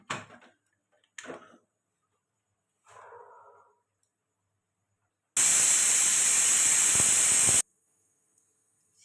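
A pressure cooker holding peas and potatoes for ghugni made with goat fat lets out one loud, sharp steam whistle with a hiss that lasts about two seconds, following a few soft clatters in a quiet kitchen.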